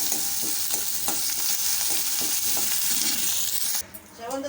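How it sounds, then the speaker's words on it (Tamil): Curry leaves and green chilies temper in hot oil in a pan, a loud, constant sizzle with soft rhythmic stirring scrapes, briefly dropping near the end before crackling back up. "எல்லாமே நல்லா தாளித்து ரெடியாகட்டும்"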